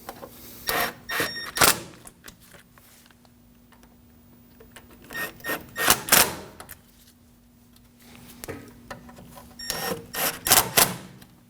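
Bolts being snugged down on the steering knuckle of a 2009-2014 Ford F-150, heard as several bursts of tool noise with quieter gaps between them at close range.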